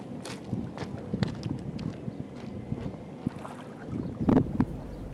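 Wind blowing by the sea, a gusty rush buffeting the microphone with scattered knocks and a louder gust near the end, no talking.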